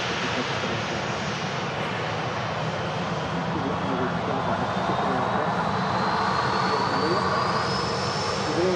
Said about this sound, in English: EasyJet next to land.